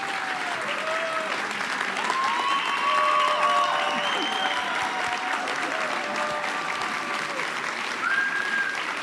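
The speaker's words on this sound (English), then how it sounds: "Everybody, please give them a round of applause." A convention audience gives a sustained round of applause for students, steady dense clapping filling the room for several seconds with faint crowd murmur and a voice speaking over it.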